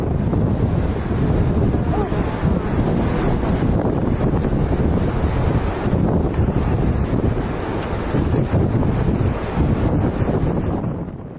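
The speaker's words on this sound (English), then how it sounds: "These shots were filmed in Nazaré, Portugal, home to some of the biggest waves in Europe." Giant ocean waves at Nazaré, Portugal roar in a continuous loud, broad rumble, heavily buffeted by wind noise on the microphone, with no talk.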